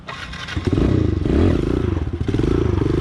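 A Kawasaki KLX 110L dirt bike engine drones loud and close as the rider glides a footbrake wheelie, with rumbling revs, rattling clatter and scraping bumps, no voices.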